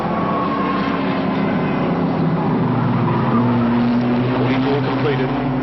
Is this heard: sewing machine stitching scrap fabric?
no